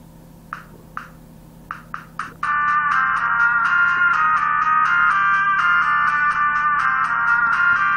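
Short synthetic blips tick out a sparse rhythm in a Capcom intro on a portable Sega Genesis player with faulty emulated audio, then a bright, buzzy electronic chord swells and holds, sounding thin and slightly distorted.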